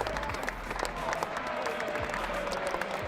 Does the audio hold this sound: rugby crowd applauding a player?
yes